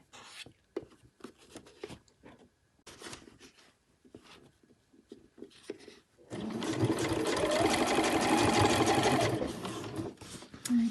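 Sewing machine running a back stitch over pom-pom trim on a cushion cover, a steady close whirring burst of several seconds following a stretch of quieter handling sounds.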